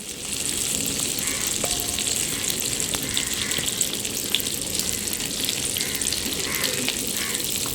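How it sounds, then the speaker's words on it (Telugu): Bitter gourd pieces frying in oil over a low to medium flame, a steady close sizzle with scattered pops and a few light clicks of stirring, no speech. "లో టు మీడియం ఫ్లేమ్లో పెట్టుకుని వేయించుకోండి"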